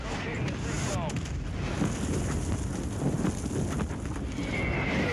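Mortar shells land in the Warzone video game: a dense, continuous roar of blasts and rumble under a steady wash of wind-like noise, loud and unbroken throughout.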